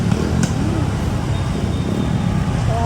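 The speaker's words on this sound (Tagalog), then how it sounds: "Traffic." Busy street traffic in Manila near Intramuros: a dense, continuous roar of passing cars and engines, with a brief horn-like tone, loud and close throughout.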